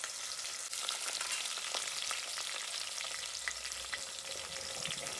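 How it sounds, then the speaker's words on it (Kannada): Mustard seeds, curry leaves and onion sizzle steadily in a hot pan for a North Karnataka-style brinjal masala, with a dense, continuous frying hiss, faint crackles and occasional stirring scrapes, and no talking. "ಸಾಸಿವೆ, ಕರಿಬೇವು, ಈರುಳ್ಳಿ ಸ್ವಲ್ಪ ಇವಾಗ ಬಾಡಿಸ್ಕೊಳ್ಬೇಕು."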